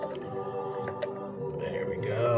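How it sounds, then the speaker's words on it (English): Fruit being muddled in a glass with a little liquid for a virgin guava drink gives close, wet squishing and pressing sounds over a steady harmonic hum, with a voice present. "I'm going to go ahead and muddle what we have there so it doesn't get too soupy and slosh around"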